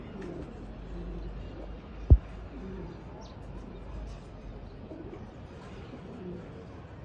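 A female pangshi pigeon of the kalabala style and others coo softly in a home loft, a low steady murmur with one sharp thump partway through and a voice talking over it.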